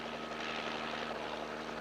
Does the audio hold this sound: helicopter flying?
yes